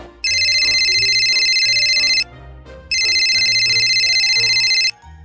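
A loud electronic phone ringtone plays two long bursts separated by a short pause, with faint background sounds underneath.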